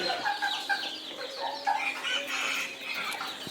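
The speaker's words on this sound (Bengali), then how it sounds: "এখানে আমার কিছু silver Cochin white Japanese bantam black টেল জাপানিজ ব্যান্থাম এবং দুইটা গোল্ডেন সেপারেটের বাচ্চা ওইগুলোকে রোদে দিছি" Silver Cochin, white and black-tailed Japanese Bantam chickens and Golden Sebright chicks sunning outdoors, with steady close clucking and chick peeping, overlapping calls and a brief wing flutter.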